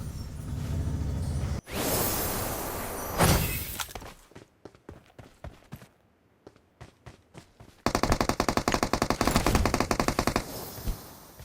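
Gunfire during a fight in the video game BGMI: a long burst of rapid automatic fire, then scattered single shots and clicks, and finally a dense, loud rattling volley of repeated shots.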